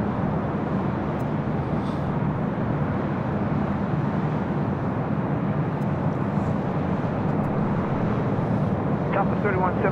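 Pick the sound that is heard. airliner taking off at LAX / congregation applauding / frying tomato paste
airliner taking off at LAX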